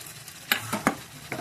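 Spice paste frying in oil for a river crab curry, sizzling steadily under a few distinct scraping stirs of a spoon against the pan, close and clear, with no talking.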